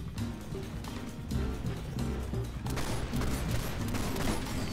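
Gunfire from shooting an enemy in PlanetSide 2, a steady burst of rapid shots over a low rumbling game backdrop, loud and continuous for several seconds with no talk.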